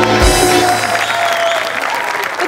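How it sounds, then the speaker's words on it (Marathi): Loud, sustained applause from a studio audience at a Marathi comedy show, steady dense clapping that fills the whole moment without any speech over it. "जोरदार टाळ्या"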